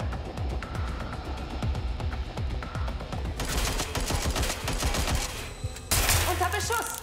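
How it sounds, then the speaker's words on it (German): Gunfire in the video game Watch Dogs Legion, with bursts of shots and a loud barrage of overlapping rounds that builds and then breaks off near the end, while someone speaks briefly over it. "Unter Beschuss."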